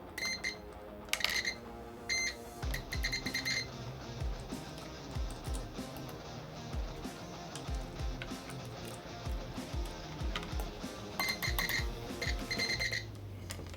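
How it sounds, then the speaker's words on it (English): Electronic beeps in short repeated bursts, with clusters of high tones starting and stopping over a busy mechanical background, fairly quiet and with no talk. "All the beeps."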